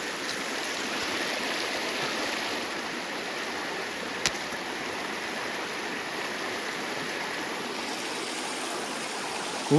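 Small stream of water flowing at a river fishing spot where the flow is being diverted, a faint, steady wash of rushing water with one brief click midway.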